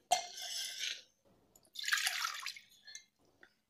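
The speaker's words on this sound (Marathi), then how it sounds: "आता हे गूळ आणि पाणी मी एका पॅन मध्ये घालते" Jaggery and water poured into a pan in a home kitchen, heard as two close bursts of liquid splashing and trickling separated by a short pause, then a few faint drips.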